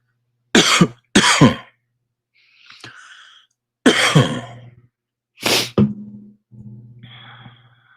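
Several sharp, harsh coughs close to the mic, two quick ones then more after short pauses, with a faint hum between bursts and no talking.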